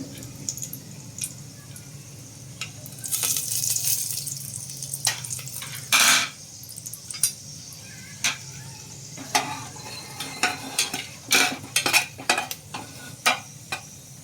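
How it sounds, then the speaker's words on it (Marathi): Cloves, black pepper and cinnamon hit hot oil in a pan, giving a soft crackling sizzle broken by clinks and scrapes of a stirring spoon against the metal, loudest in scattered bursts. "तेल तापलं आहे बऱ्यापैकी आणि दालचिनी हे सगळं जे आहे ते घालून घेते."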